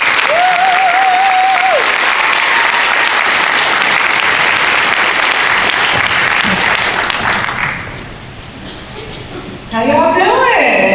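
A large conference audience at an environmental symposium applauds steadily and loudly as a keynote speaker walks on stage, the clapping fading briefly before a voice starts speaking over the end.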